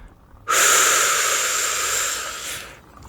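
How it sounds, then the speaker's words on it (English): One long, breathy inhalation, close and fairly loud, swells up suddenly and then fades gradually over about two seconds in a quiet room during a guided calming breathing exercise. "And breathe in."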